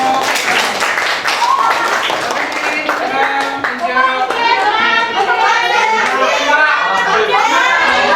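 Classroom applause for a student group: rapid, loud clapping from many children's hands, starting as sharp separate claps and thickening into a continuous roar, with children's voices and chatter mixed in.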